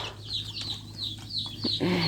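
Chickens cluck on a family farm, with a steady run of short calls at moderate loudness over a low constant hum, some nearer squawks toward the end.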